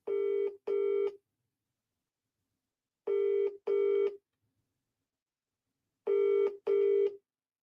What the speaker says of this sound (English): Let me call him quickly.